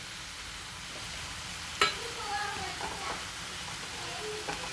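Butter garlic mushrooms with chili flakes sizzle steadily in a pan, a soft continuous frying hiss with a few brief clinks and stirring sounds, close by and alone.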